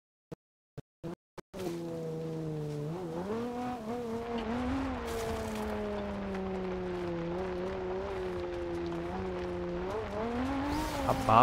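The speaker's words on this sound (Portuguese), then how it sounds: "Abafa, né, o barulho do motor." In the racing game Forza Horizon 2 on Xbox One, a car engine revs and holds a loud, sustained drone that rises and falls with shifting speed, preceded by a few quick clicks.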